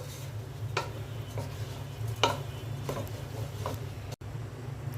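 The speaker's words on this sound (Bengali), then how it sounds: "এখন মশলাগুলো ভালো করে মিক্সড করে নিচ্ছি।" A spoon stirs spices with ghee and salt in a pot. The quiet scrapes and clinks are spaced out over a low, steady hum, with faint sizzling underneath.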